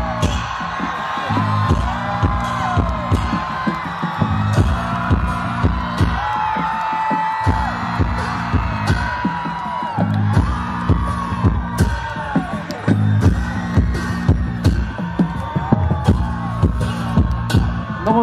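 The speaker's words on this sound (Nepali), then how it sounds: "ताली बजाएर उहाँलाई स्वागत गरिदिनु होला।" A large concert crowd in Dharan claps, whoops and cheers to welcome a singer, a dense, steady roar of yells and applause throughout.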